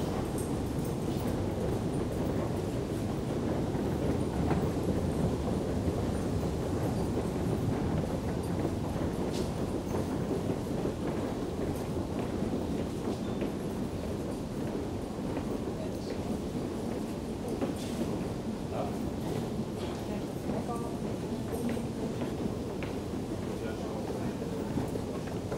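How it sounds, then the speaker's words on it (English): A London Underground Jubilee line train gives a steady, continuous rumble and rattle that stays fairly even throughout, with faint murmuring voices mixed into the noise. "the train's approaching, it says"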